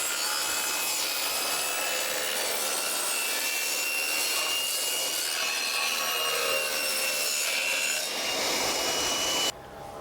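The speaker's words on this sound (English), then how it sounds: "it does have enough to run this table saw and other tools" Table saw cutting wood while running off a modular power station, a loud continuous rasping whine that holds steady for most of the span before the blade spins down near the end.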